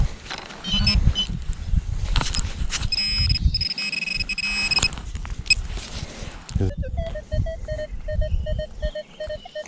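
A steady electronic beeping tone from a metal detector cuts in and out among rustling and background noise, then several short chirpy beeps near the end.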